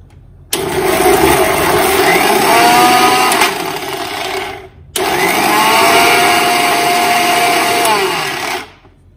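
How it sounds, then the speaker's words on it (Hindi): A mixer grinder blending wood apple chutney runs in two loud, close bursts of whirring motor with a brief pause between them, then stops. No one speaks. "बस अभी पहले उसको थोड़ा ग्राइंड कर होने दो"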